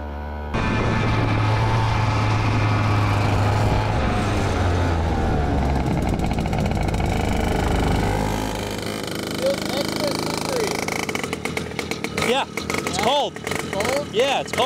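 A race car pulls away on a cold track, its engine loud and steady at first before fading, followed by sharp sputters and pops near the end, with a voice talking over part of it.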